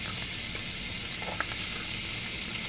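Bacon and onion frying in a pan, a steady, even sizzle that stays constant throughout at moderate level, with no voices.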